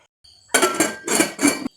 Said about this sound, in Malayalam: ഇനി കുക്കർ അടച്ച് വേവിച്ചെടുക്കാം.